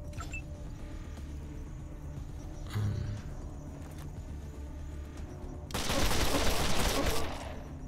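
Gunfire from the Wasteland 2 video game, a faint distant crackle under steady background game ambience, then a louder noisy burst near the end.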